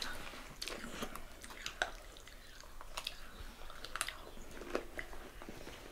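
Close, crisp crunching bites and chewing of a crunchy jack-o'-lantern cookie, irregular and quiet, with small sharp crackles scattered through a few seconds of near silence.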